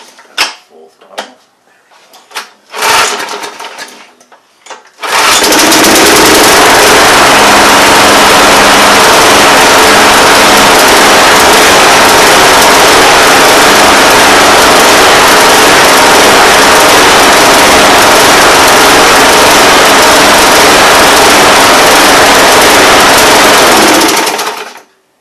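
A hard-to-start John Deere lawn mower engine, running lean, roars steadily at full throttle for about twenty seconds, loud and close, after a few brief clunks and pulls at the start.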